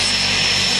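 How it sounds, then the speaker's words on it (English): A small skydiving plane's engine runs steadily on the ground before a jump, a loud, constant propeller drone with no pauses. "The plane's running."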